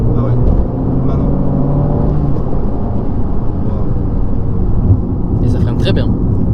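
A 2019 Abarth 595 Pista 70th Anniversary drives along with a steady, loud engine and road rumble heard from inside the cabin, while occupants talk over it.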